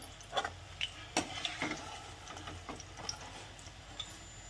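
Green chillies fry in hot oil until crisp, giving off a faint, sparse crackle with scattered pops and light stirring clicks, and no voices.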